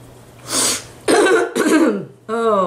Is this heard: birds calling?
no